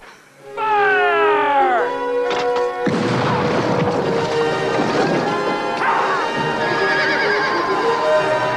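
A horse gives a loud, close whinny with falling pitch, followed by a crash and thuds, then continued clatter and commotion.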